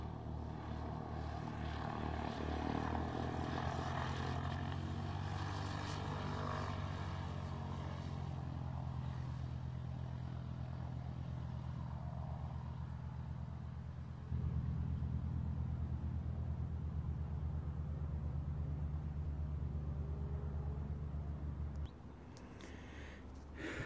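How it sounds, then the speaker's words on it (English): A small propeller airplane taking off from runway 31 right at Reid-Hillview airport, its engine a steady, close droning roar that steps up in power midway through the run before easing off near the end. "third takeoff for Hung, taking off of runway 31 right now after back taxiing on 31 right"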